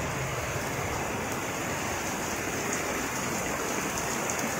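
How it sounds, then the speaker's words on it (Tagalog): Heavy rain pouring down steadily outdoors, a dense, constant hiss of drops on surfaces, loud and unbroken throughout with no voices. "Ulan."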